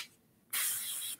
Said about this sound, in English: That's going to be it for the airbrushing